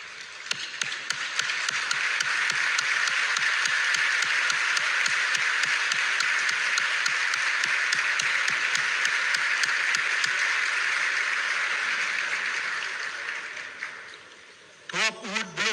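An audience at a speech by a former president gives a long, loud round of applause, many hands clapping steadily for about thirteen seconds before it fades and a voice begins speaking.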